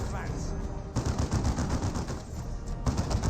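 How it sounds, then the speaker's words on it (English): Sustained machine-gun and heavy bolter fire pours onto Devastator Marines in a Dawn of War 2 battle, a continuous rattling barrage with a brief lull before bursts resume, under talk. "Devastator Marines receive quite a bit of fire there"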